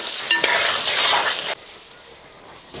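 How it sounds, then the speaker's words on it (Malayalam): Sliced onions for Hyderabadi biryani fry in hot oil with a bright, loud crackling sizzle and a short clatter as they are stirred. The sizzle drops suddenly to a much quieter hiss halfway through. "ഈ സവോളയും കൂടെ ഇതേപോലെ ഒന്ന് വറുത്തെടുക്കട്ടെ."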